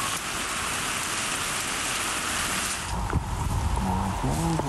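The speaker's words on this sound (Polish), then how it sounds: "Lubię jak deszcz pada." Steady broadband hiss of rain falling, close and continuous throughout, with a brief voice and a few tonal sounds near the end.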